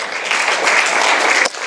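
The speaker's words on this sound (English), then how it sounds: "Give yourself a round of applause." Audience applause at a Camp Constitution talk, a short burst of dense clapping close by that cuts off abruptly near the end.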